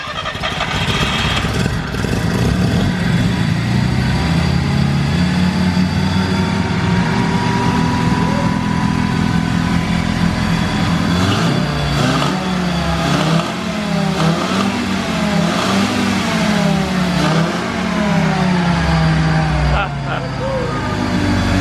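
A Series 1 Mazda RX-7 rotary engine, a barn find not run in ten years, cranks and catches on its own fuel, then revs loudly and steadily with rising and falling pitch, close by, while people talk over it.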